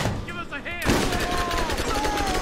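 Borderlands gunfire from tap firing: a quick series of sharp, fairly close shots in rapid bursts over about two seconds, following a brief stretch of game sound.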